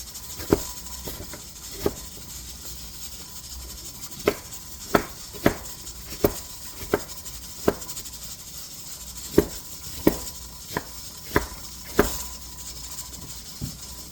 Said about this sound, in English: I'm going to coarsely chop these